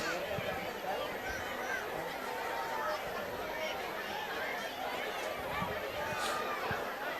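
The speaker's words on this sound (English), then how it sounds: "Crowd lively tonight." A lively crowd at a varsity football game between Pacifica and Valencia makes a steady, fairly faint murmur of chatter and cheering that holds evenly through the stretch, with scattered louder shouts.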